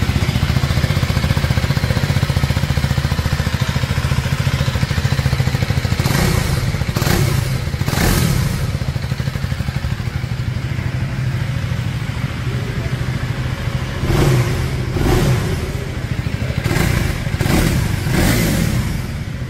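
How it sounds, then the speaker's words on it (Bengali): A 2025 KTM 390 Enduro R with an underbelly exhaust idles close by with a steady throbbing rumble, broken by several sharp throttle blips that rise and fall in quick bursts. "চলুন এবারের এক্সস্ট সাউন্ডকে একবার শুনে নেওয়া যাক।"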